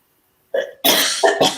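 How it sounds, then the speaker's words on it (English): A short burst of coughing up close, two or three harsh hacks in quick succession with a brief catch of breath before them. "it makes me cough a little bit"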